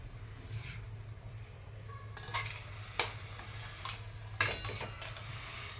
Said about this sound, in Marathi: आता हा हलवा आपण प्लेटमध्ये काढू